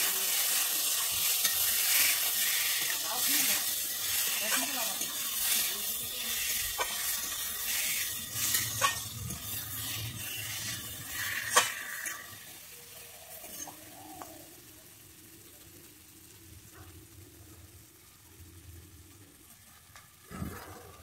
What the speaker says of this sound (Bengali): আমি এর মধ্যে দিয়ে দিচ্ছি ভেজে রাখা পটলগুলো, দিয়ে আমি ভালোভাবে কষিয়ে নিচ্ছি